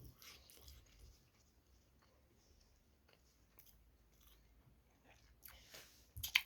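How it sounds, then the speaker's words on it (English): Soft, faint chewing of Thai sweet chili flavoured popcorn possum, a chewy lolly, with quiet intermittent crunches and mouth noises close to the microphone and a louder burst at the end. "The more you chew them, the better they taste"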